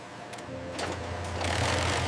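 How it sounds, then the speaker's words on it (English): Industrial bag-closing machine stitching bulk rice sacks shut in a rice factory gives a steady mechanical whir with a low motor hum, building slightly louder through the stretch with rapid clattering needle action. "Industrial stitching withstands rough handling through distribution chains."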